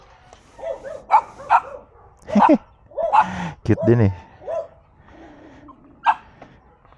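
Dogs bark and yip in short bursts, fairly close, with someone speaking briefly between the barks.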